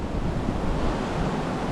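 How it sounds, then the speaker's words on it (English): A strong gust from an Alaska wind storm roars continuously, a dense broadband rush close to the microphone, with no voices. "It's too damn windy."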